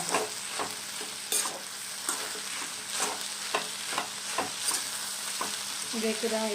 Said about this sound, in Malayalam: ഇത് തുറന്നു കൊടുക്കാം ഇളക്കിട്ട് കൊടുക്കാം